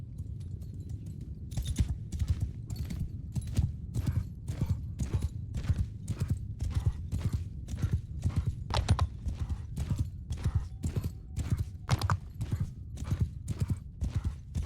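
Cavalry horses gallop in the video game Bannerlord, giving a steady, loud clip-clop of many hooves that lasts the whole stretch, with a faint neigh or two in the mix.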